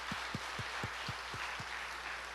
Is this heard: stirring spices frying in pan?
no